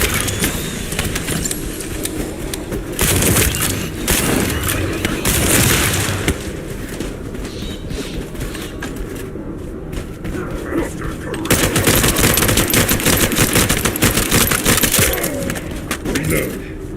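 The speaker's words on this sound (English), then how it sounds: "That stopped the gunfire." Machine gun fire in the shooter game The First Descendant, rapid bursts of automatic shots and booms in dense clusters with brief pauses, loud and close, with voices talking over the fighting.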